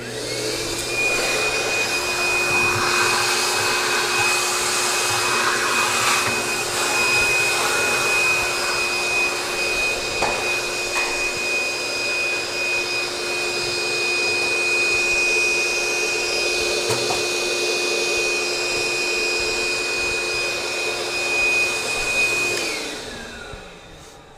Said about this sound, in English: Actually, I'm going to vacuum that some